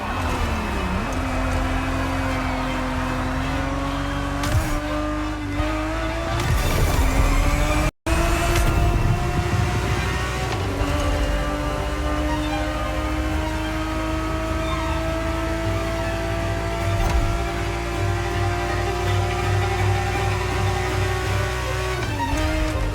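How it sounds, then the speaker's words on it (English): A Ferrari 365 GTB4, a 1970s V12 sports car, driving in the racing game The Crew Motorfest, its engine revving up and down through gear changes with steady, loud exhaust roar, a brief cut, and tire noise throughout. "The Ferrari 365 GTB4 is the perfect vehicle for you to experience Ferrari racing as it felt back in the 70s"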